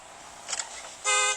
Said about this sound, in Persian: چرا اینجوریه بوقش؟